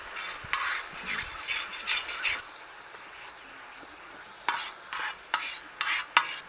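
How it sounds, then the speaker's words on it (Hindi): Yogurt is stirred into a simmering paneer gravy in a pan, giving close, repeated scraping strokes in an irregular rhythm over a soft, steady sizzle, with no one speaking. "दही डाल देते हैं 4 से 5 चम्मच। चला देते हैं और निरंतर इसे पकाएंगे।"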